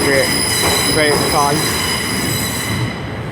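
A ScotRail class 385 electric unit, a single set, departs Glasgow Central with loud, squealing wheels and a steady rolling rumble close by, fading slightly at the end.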